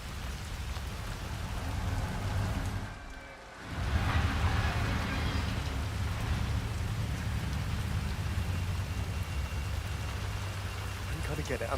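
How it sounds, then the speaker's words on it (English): Steady rain falls in Hitman 3, a loud continuous patter of drops on surfaces, briefly dipping before resuming, with voices talking faintly over it. "I'm never going out in the rain again."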